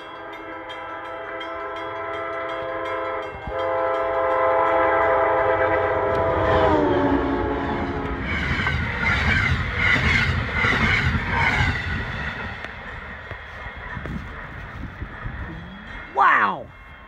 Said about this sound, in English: Amtrak Vermonter flying by Windsor Station.